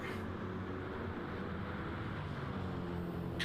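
A Mercedes-AMG GT race car at speed on the Spa 24 Hours circuit, a steady, fairly quiet engine drone heard from a distance and held throughout, without voices.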